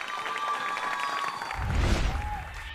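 Steady audience applause and cheering welcome a singer onto the stage at a televised music competition knockout round. It is moderately loud and continuous, swelling briefly near the end.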